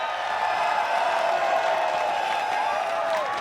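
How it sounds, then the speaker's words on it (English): A large esports crowd at an Evo fighting-game tournament cheers and roars loudly and continuously for a player, a dense sustained wash of voices and whoops. "crowd, I want to hear some noise"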